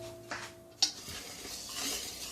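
Vegan crepe batter being mixed in a bowl, a couple of sharp utensil clinks against the side followed by soft swishing stirring, close and fairly quiet.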